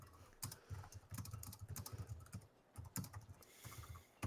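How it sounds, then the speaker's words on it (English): Fast, furious typing on a computer keyboard: dense, uneven bursts of close key clacks with brief pauses, fairly quiet throughout and with no voices. "that furious typing"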